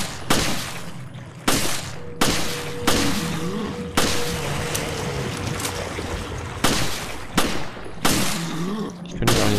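Gunfire in Resident Evil Revelations: loud, sharp broadband shots fired singly and in quick pairs at irregular intervals over a background of game ambience, with no talk.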